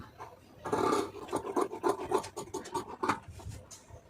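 Scissors snip through blouse fabric at the armhole join, a close series of rough crisp cutting strokes in quick uneven rhythm, with no talking.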